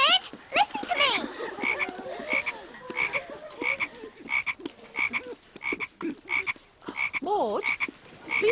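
Frogs croaking repeatedly in a steady pulsing rhythm, close and clear, with warbling trills layered over the background chorus.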